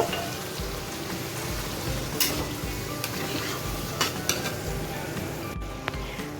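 Fish curry masala sizzles loudly in a pan with water added while a spatula stirs it, giving a continuous bubbling hiss broken by soft, regular knocks and scrapes against the pan.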